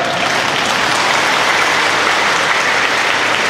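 A congregation at a Catholic Sunday Mass breaks into dense, steady applause after a bolero love song, filling the room evenly and without a break.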